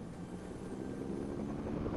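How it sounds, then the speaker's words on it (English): Helicopter in the Fortnite video game: a steady, fairly faint rotor and engine drone that swells slightly, heard without any talk. "bring the helicopter back to Dad"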